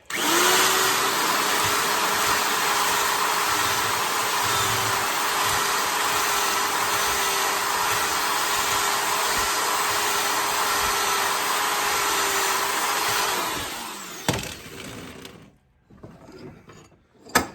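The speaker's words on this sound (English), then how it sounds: "Hit it with the drill again, maybe." A power drill whines steadily and loudly for about fourteen seconds while drilling into a vintage axe handle, then winds down and stops, followed by a few faint clicks and knocks.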